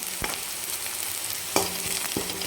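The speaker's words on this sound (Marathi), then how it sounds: "कंटिन्यू आपल्याला याला ढवळत राहायचं आहे तर आपल्या कांद्याचा कलर पण छान सोनेरी झालेला आहे" Onions frying in oil until golden, stirred in a pan: a dense, even sizzle close up, broken by two or three distinct scrapes of a spoon, with no talking.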